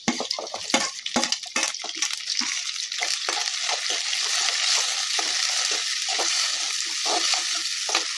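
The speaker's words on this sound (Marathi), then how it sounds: "कांदा छान फ्राय व्हायला लागलाय, बघू शकता तुम्ही" Onions fry in a pan with a close, bright sizzle broken by sharp stirring scrapes and clatters early on, settling into a steady hiss with intermittent spoon knocks.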